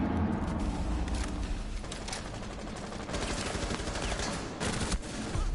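Rapid, sustained gunfire in a Rainbow Six video game match, dense overlapping bursts of automatic shots ringing out loudly and almost continuously with no voices.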